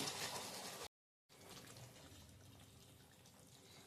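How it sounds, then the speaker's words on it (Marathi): Mutton broth pours steadily into a pan of dry mutton with a soft continuous splashing wash, broken by a brief silent gap before the pouring resumes. "2 चमचे मी मटणाचा रस्सा यात टाकून घेतलाय."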